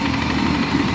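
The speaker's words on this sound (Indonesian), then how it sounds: "dipadatkan dengan mesin baby roller multi-pro." A small baby roller compactor works fine hot-mix asphalt, its engine giving a steady, loud, close droning rumble with continuous vibration.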